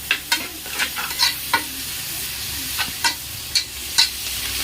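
Rice biryani made with ration rice is stirred in a pot over heat, with repeated scraping and clanking strokes at an irregular rhythm over a soft sizzle, close and clear with no talking.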